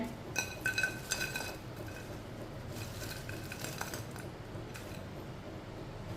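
Fried crispy okra tipped from a metal strainer onto a plate, a few quick clinks and crisp rattles early on, then scattered softer taps against a quiet kitchen background.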